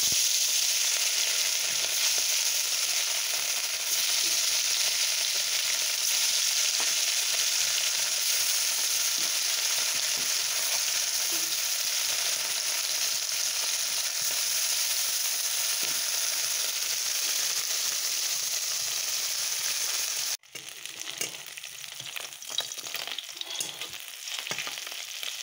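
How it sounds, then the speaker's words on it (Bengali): Small cleaned fish fry in oil in a wok, a loud, continuous close-up sizzle that holds steady for a long stretch, then turns sparser and more crackly near the end. "এখন মাছ ভাজব"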